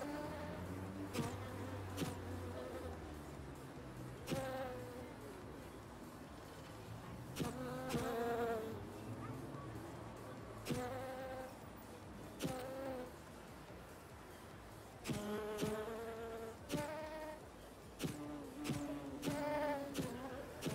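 Bees in a video game make repeated short buzzing bursts, several separate electronic-sounding buzzes with gaps between them, moderately faint and with no talking.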